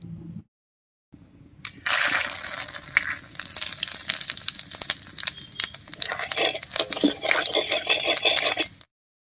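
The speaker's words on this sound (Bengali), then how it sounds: "ডিম ভাজা এই তেলের মধ্যেই ফোড়ন দেব, আর ফোড়ন দেব গোটা গরম মশলা, একটা তেজপাতা আর জিরা দিয়ে" Whole garam masala, a bay leaf and cumin hit hot oil left over from frying eggs for an egg curry. After a brief pause, a loud, dense sizzle with crackling pops carries on until it cuts off abruptly.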